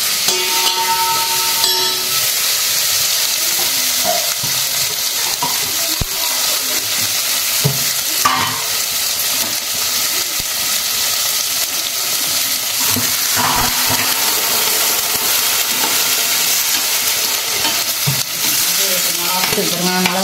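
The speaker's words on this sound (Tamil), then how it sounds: "தக்காளி சாம்பாருக்கு தக்காளி போட்டாச்சு." Tomatoes sizzle and fry in a pan for tomato sambar, with steady stirring and scraping throughout, loud and close, with no talking.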